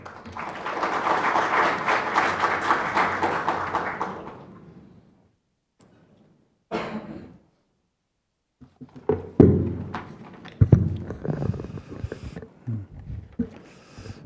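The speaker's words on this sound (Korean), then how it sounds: "큰 박수로 맞이해 주시기 바랍니다" Audience applause at a Korean National Assembly forum welcomes the committee chairman for his opening address, a few seconds of moderate clapping that stops abruptly, then near silence, thuds and shuffling as he reaches the microphone.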